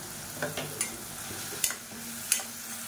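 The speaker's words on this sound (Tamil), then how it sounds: "தக்காளி சேர்த்து நல்லா வதக்கியாச்சு." Tomato paste being sautéed and stirred in a pan, a soft steady sizzle with several scraping stir strokes spaced through it, close and without speech.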